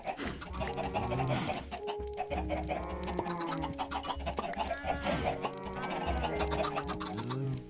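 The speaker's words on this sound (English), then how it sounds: "Come on, chickens." Chickens clucking in the Minecraft video game, repeated soft clucks layered over in-game music tones, steady and moderately quiet.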